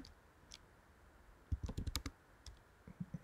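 Typing a gpg verify command on a computer keyboard, a quiet run of close key clicks in an uneven cluster followed by a few more taps.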